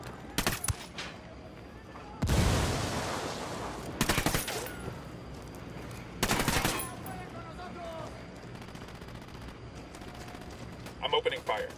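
Bursts of automatic gunfire in the tactical shooter Ghost Recon Wildlands during a firefight with cartel gunmen, several loud volleys separated by short pauses over a steady background hum.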